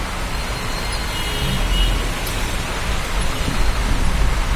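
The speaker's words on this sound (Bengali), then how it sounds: "প্রচন্ড বৃষ্টি হচ্ছে।" Heavy rain pours down steadily in a dense, continuous hiss with a low rumble underneath, loud and unbroken throughout with no voices.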